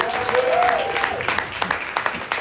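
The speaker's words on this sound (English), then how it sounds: "Y'all clap it up for Mr. Mike Robinson." A comedy club crowd applauds a comedian, dense clapping and some cheering rising after a brief voice at the start and continuing to the end.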